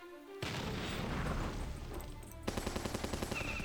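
Gunfire and booms from units in the war strategy game Battle Nations, a sustained roar of shots followed by a rapid rhythmic burst of machine-gun fire, loud and continuous with no talk.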